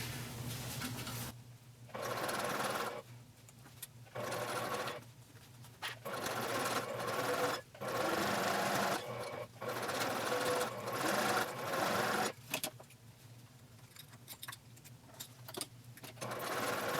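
A sewing machine stitches over the pressed-open seams of a fabric bag in repeated bursts of steady whirring, each run a second or two long, separated by short quiet pauses.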